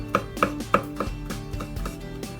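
A kitchen knife chops geoduck clam meat for sashimi on a cutting board: a steady run of about eight close, crisp knocks, loud and alone with no talk.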